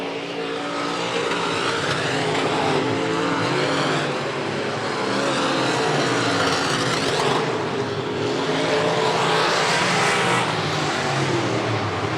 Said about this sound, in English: you can hear him hitting that rev limiter down the boulevard here tonight by the flag stand